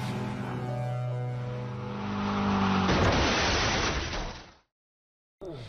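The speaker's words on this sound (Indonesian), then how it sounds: "Joe yang frustasi karena tidak bisa menyelamatkan teman-temannya dengan sadar menabrakkan mobilnya." A car engine revs and drones, then breaks into a loud crunching crash as the car is deliberately driven into a collision, followed by abrupt silence and a brief return of noise.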